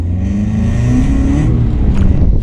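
A home-built Mazda Miata accelerates hard onto a race track, its engine note climbing steadily and loud, close up from on board.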